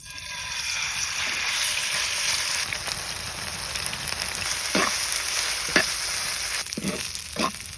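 Spiced meat frying in oil over a clay stove, a steady crackling sizzle that runs throughout, with several short scraping and stirring strokes near the end and no voices.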